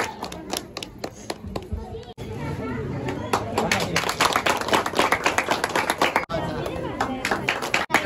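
Audience clapping at a Ganesh Jayanti school celebration, rhythmic and close with sharp individual hand claps, building into dense applause as children and adults chatter underneath.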